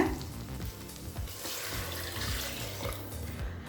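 Steady running water pours into a pot of sautéed vegetables for biryani, a continuous splashing rush with a faint sizzle underneath, close by and with no talking.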